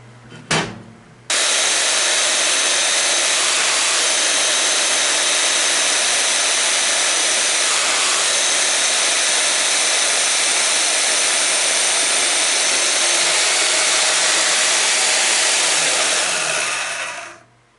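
A workshop saw cutting a welding setup block to size: after a brief knock the saw starts up into a loud, steady, broadband roar that holds for about fifteen seconds before winding down, with no talk.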